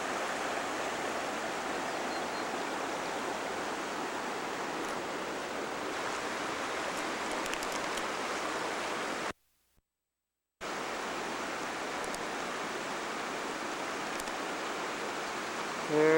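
Pony Creek running steadily toward Rose Lake, a constant broadband rush of flowing water that fills the scene, briefly cut out for about a second midway, with no voices.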